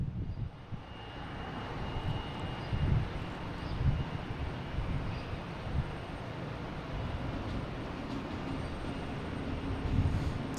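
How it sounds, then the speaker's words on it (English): JetBlue Airbus A321 arriving from Seattle at Boston Logan International Airport, a steady low engine rumble filling the whole stretch, fairly distant and constant with slight swells, no voices. "We have a JetBlue coming in from Seattle."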